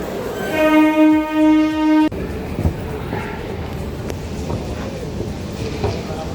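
A loud train horn blares for about two seconds, then a rumbling metro train and a busy crowded station hubbub continue, with people talking, at Park Street, Kolkata.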